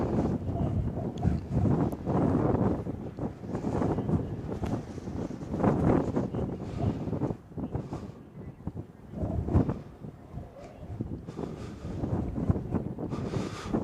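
Strong, gusty wind at Cincinnati/Northern Kentucky International Airport (CVG) on a cold day, roaring and buffeting close against the microphone in uneven surges that rise and fall throughout, with no other clear sounds standing out.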